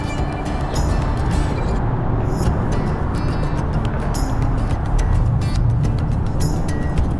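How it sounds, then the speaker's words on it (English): Constant roar of heavy northbound I-65 interstate traffic overhead while passing beneath the bridge, a dense rumbling wash of vehicles that never lets up. "Cross under the northbound traffic. It's so loud."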